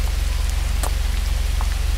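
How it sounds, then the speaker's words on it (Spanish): Steady rain falls in a music video, a dense even hiss of drops over a heavy low rhythmic hum, with occasional sharper drips standing out. "bajo una lluvia misteriosa"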